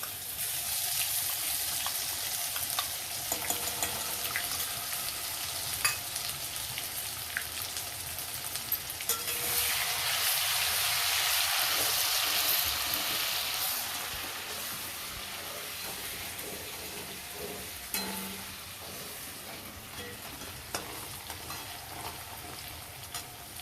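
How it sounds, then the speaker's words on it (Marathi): Ginger, garlic and green chili paste frying in oil in a pan, a steady close sizzle that swells and eases slightly as it is stirred, with no talk. "आता हे आलं लसूण आणि तिखट, हिरवी मिरचीची पेस्ट हे ह्याच्यात परतून घेते"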